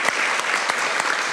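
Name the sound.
audience applause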